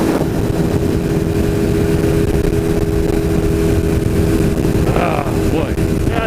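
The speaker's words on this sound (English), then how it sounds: "the old Suzuki's running all right. I think she likes being pushed up there into the higher revs." A Suzuki motorcycle engine drones steadily and loud while riding, revved into higher revs, with continuous wind and road rumble throughout and a brief rise in pitch near the end.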